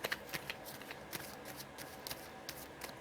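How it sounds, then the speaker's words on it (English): Tarot cards riffled and shuffled by hand in a quiet room, a series of soft, crisp papery bursts with brief pauses between them, faint and close. "I have pulled from the back of the deck to shuffle"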